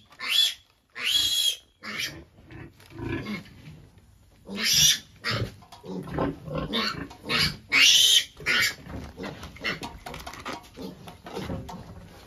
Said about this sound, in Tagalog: Ito po guys yung ating pamamaraan upang matuto yung ating alagang biik na kumain.